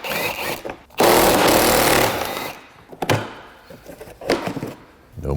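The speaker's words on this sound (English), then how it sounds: "Try to get these license plate clips out." Plastic license plate clips being pried out of the front bumper of a Honda Pilot, giving a loud scraping, cracking burst followed by several shorter snaps and rattles close up.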